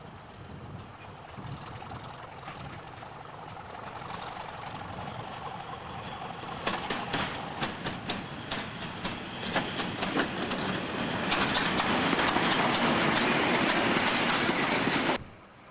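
A British Rail Class 31 diesel locomotive train runs past at steady, loud volume, with rhythmic clickety-clack of wheels over rail joints growing busier and louder in the second half before cutting off abruptly.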